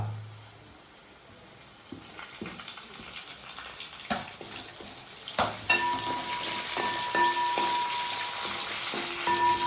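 Onions and curry leaves sautéing in a pan for chicken chukka, a soft sizzle that swells sharply halfway through into a louder steady frying hiss with scattered stirring clinks.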